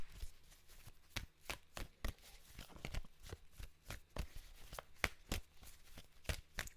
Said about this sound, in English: I'm going to pull some more cards out.